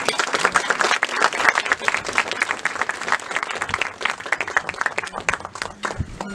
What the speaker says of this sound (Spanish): el cual pido un fuerte aplauso.